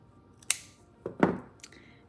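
Scissors snipping cords for a Bible bookmark tassel, two or three sharp close cuts spaced a little apart in a quiet room.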